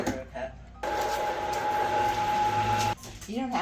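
A Vitamix blender runs a lemon tahini dressing with added water in one steady, loud whir lasting about two seconds, starting and stopping abruptly, with quieter kitchen sounds before and after.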